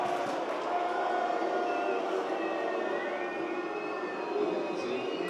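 Stadium crowd at an ultimate frisbee open final reacting to a foul call, a steady dense roar of many voices with booing-like murmur sustained throughout, mid-distance and fairly loud.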